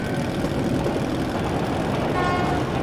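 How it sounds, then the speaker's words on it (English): A steady, loud mechanical rumble of a train in the video game Metro Last Light Redux fills the scene, with a faint train horn tone sounding toward the end. "That's the train!"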